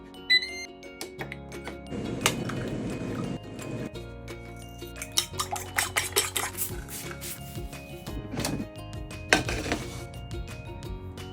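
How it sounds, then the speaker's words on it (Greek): Scrambled eggs are stirred in a pan with a utensil, giving intermittent metallic clanks, scrapes and rattles in uneven bursts, some sharp and close. "Πιάνει ο πάτος, ανακατεύουμε."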